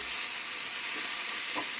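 A ground tomato, chili and tamarind paste is stirred into sizzling masala for bitter gourd curry, giving a continuous loud hissing fry with a couple of soft stirring scrapes and no talking.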